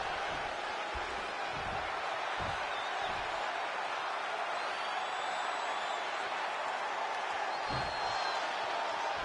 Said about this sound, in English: It's great to hear the crowd give this superstar the reception he deserves